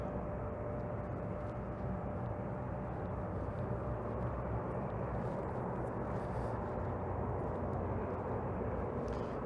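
A steady, low droning roar of airplane engines firing up, running continuously at a distance near the downtown Toronto waterfront in January, with no talking.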